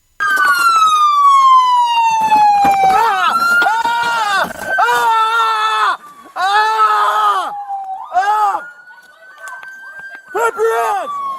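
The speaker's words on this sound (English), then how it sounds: "The impact caused severe injuries and could be heard on body camera footage as the sergeant screamed in pain." A police sergeant, his legs pinned between a patrol car's open door and a Hyundai, lets out loud, wavering screams of pain in repeated bursts, with a siren wailing steadily underneath.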